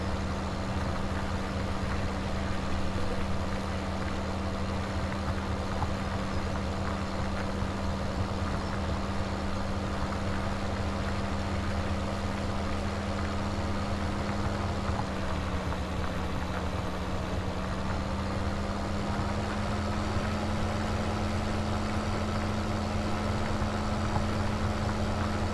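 A tractor engine in the video game Farming Simulator 2017 drones at a steady low hum while pulling a plow across a small field, continuous and unchanging throughout with no voices.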